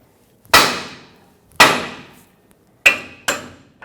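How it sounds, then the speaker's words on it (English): A hammer strikes the side of a steering knuckle on a 2000-2005 Ford Excursion to free the outer tie rod stud: four sharp, ringing metallic blows, two spaced apart, then a quicker pair, each decaying quickly. "use a hammer, tap the side of the knuckle right here where the stud goes through"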